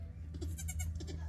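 Newborn baby goats bleat softly in a barn, a few short, faint cries over a low steady background hum.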